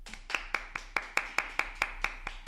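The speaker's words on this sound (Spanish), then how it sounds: "Aplausos." Slow, rhythmic clapping at a live talk, about a dozen distinct claps in an even beat, close and crisp, with no speech over it.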